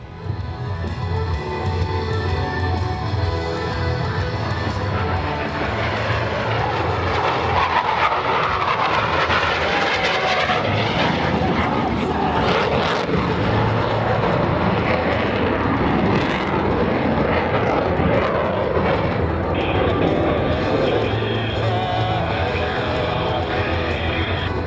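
US Navy Blue Angels jets fly opposing hesitation rolls at the 2017 Millville Wheels and Wings Airshow, a loud, continuous roar of jet engines that swells and sustains overhead.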